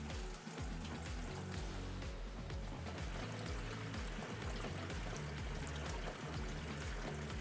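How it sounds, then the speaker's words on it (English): Clean water pours steadily into the basin of a Little Giant WRS Drainosaur sump pump system, a continuous splashing stream that stays fairly faint and even from start to finish. "fill the basin with clean water until the pump starts"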